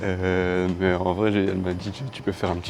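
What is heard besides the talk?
None of the usual background noises is heard.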